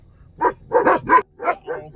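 A dog barks five or six times in quick succession, sharp and close, with short pauses between the barks.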